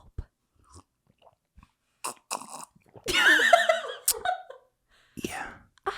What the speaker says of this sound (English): Do you want to hear me drink some water?